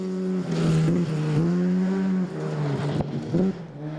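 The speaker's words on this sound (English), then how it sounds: "Justin Glavish driving his little starlet like he stole it" A small Toyota Starlet rally car is driven hard on Coromandel gravel stage roads, its engine screaming close by with strong rising and falling revs and gear changes over four seconds.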